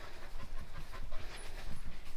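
Herding dogs pant rapidly and close by at a sheep farm, a quick rhythmic huffing of breaths that runs continuously through the moment without speech.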